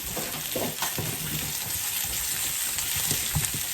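Salmon fillets, generously seasoned with salt and pepper, sizzle and crackle steadily as they fry in a pan, with irregular sharper pops scattered over a constant close hiss and no talking.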